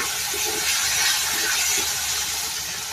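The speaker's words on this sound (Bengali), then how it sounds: "পরিমাণ মতো পানি দিয়ে দিব।" Water poured into a pan of reddish-fried onions with green chilies and salt, for a rohu fish and okra curry, makes a loud rushing hiss and bubbling steam burst lasting a few seconds, with no talk.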